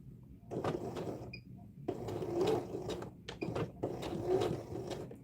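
A sewing machine top-stitches an oilskin tote with a lengthened stitch, running in short close bursts of rapid whirring with brief pauses between them.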